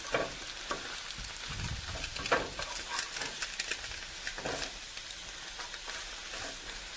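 An egg fries in a hot pan for a Mu Shu chicken dish, giving a steady close sizzle broken by scraping and stirring as a spatula loosens its edges, with no talking.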